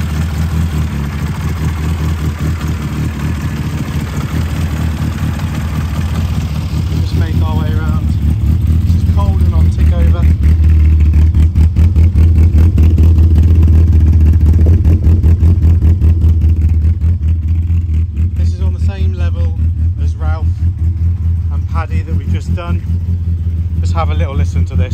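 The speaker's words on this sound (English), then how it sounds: "So obviously proper lumpy because of the upgraded cam." A cold 1380cc GT Mini with an upgraded cam, tuned to 120 bhp, idles close by with a lumpy, throbbing rumble that holds steady throughout, while a voice briefly speaks over it in places.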